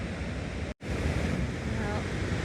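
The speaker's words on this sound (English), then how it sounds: "we are at the Victoria Falls" Victoria Falls waterfall with its mist and spray, a dense, continuous roaring wash of falling water mixed with wind buffeting the microphone, loud and close, broken by one brief dropout.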